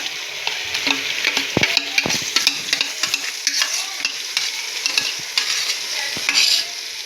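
Ginger, garlic and green chilli paste frying in a pan for chicken biryani, a steady sizzle broken by sharp scrapes and knocks of a spoon stirring, with no talk.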